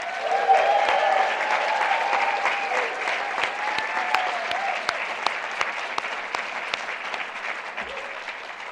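An audience at a poetry reading in the Museum of Fine Arts Boston gives robust applause for Naomi Westwater, full steady clapping with a few distinct claps standing out, fading slightly toward the end.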